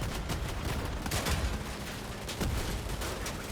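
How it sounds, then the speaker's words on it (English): In the Crossout video game, an Akari weapon fires a dense, continuous stream of gunfire, its rapid shots blending into a loud rattle that pulses through the whole stretch with no voices. "why am I missing so many Akari shots?"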